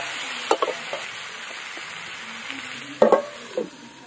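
Eggplant and potato pieces sizzle in hot oil for a rustic koi fish curry, with a steady soft frying hiss broken by a few sharp stirring clatters near the start and middle.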